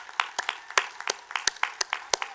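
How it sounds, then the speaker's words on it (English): Sparse applause at a Hood College commencement ceremony for volunteers, a small scattering of distinct, uneven claps close by, not a full ovation. "one more round of applause for all the volunteers who have made this day happen"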